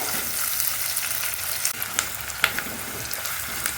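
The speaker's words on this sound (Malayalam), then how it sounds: "ഇനി സവോള ഒന്നിങ്ങനെ ജസ്റ്റ് ഒന്ന് വഴറ്റിയെടുക്കുക" Sliced onions sauté in a hot pan for a simple Kerala mulakittathu curry, giving a steady close sizzle with a few soft spoon scrapes and clicks, and no voices.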